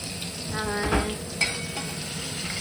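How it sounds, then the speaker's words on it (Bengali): Prawns frying in a pan, a steady close sizzle and crackle with a couple of louder pops from stirring, no voices. "এদিকে আমাদের এখন চিংড়ি মাছ ভাজা চলছে"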